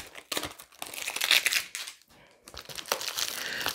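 A taped-up cardboard beer mail package is torn and ripped open by hand, giving close crinkling, crushing and tearing noises in irregular bursts with a brief pause in the middle.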